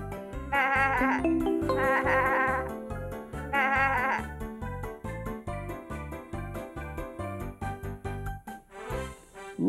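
A lamb bleats several times in quavering calls over a steady backing of music, fairly close and clear.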